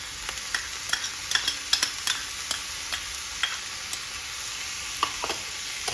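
Capsicum and carrot stir-fry in a pan for semolina (rava) momos, a steady sizzle broken by scattered scraping clicks of a spatula, close and moderately loud, with no talking.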